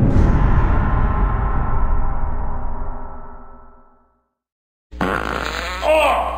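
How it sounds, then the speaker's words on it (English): A single loud, drawn-out fart sputters and fades over several seconds, then after a brief silence voices start talking. "You farted."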